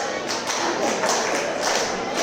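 Rhythmic clapping from a wrestling crowd at a CCW Bash 46 event in Hialeah, Florida, backing Cruz with repeated, fairly loud claps and a little voice underneath.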